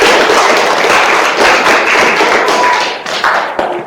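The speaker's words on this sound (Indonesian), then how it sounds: "Oke, tepuk tangan buat semuanya" Applause for everyone at a classroom teaching-performance presentation, with dense crowd clapping and tapping filling the room steadily and loudly, close and continuous throughout.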